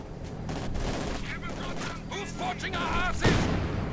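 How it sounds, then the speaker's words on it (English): Gunfire crackles through a World War II battle in a strategy game as a grenade wipes out an MG42 crew, with dense rattling bursts and a sharper blast near the end, beneath game voices. "Ooh, that was a punishing grenade."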